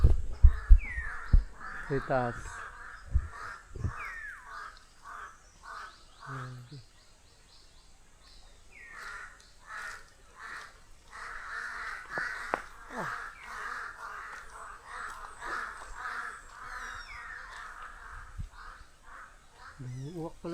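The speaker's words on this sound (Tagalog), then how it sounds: "Ang daming uwak. Grabe, ang daming uwak dito mga guys." A large flock of crows caws repeatedly around their nesting spot, with harsh calls overlapping at mid distance while a person talks now and then.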